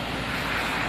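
Floodwater from a creek swollen by heavy rain rushes in a steady, loud, broadband roar with no break, close to the microphone and with no voices.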